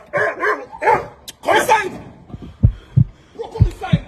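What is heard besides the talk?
dog barking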